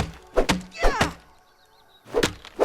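Chopping swings in the video game Grounded land as a series of dull, heavy thunks in an uneven rhythm, close and fairly loud, with a brief pause between groups of hits.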